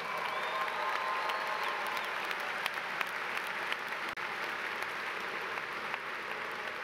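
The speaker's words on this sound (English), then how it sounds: "Let's give them all a round of applause." Steady, dense applause from a large commencement audience at a 2015 morning graduation ceremony, sustained and even throughout with a faint crowd murmur beneath.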